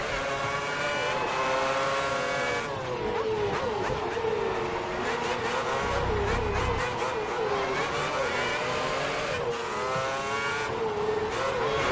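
Formula 1 cars race at the 2010 Belgian Grand Prix, their high-pitched engines screaming and shifting continuously as they pass close and loud, without commentary.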